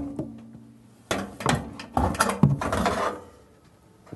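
A heavy Electrolux washing machine motor is pulled free from the back of the machine after its bolts are undone, giving several loud clunks, knocks and scraping metal sounds spread over a few seconds, with no talking.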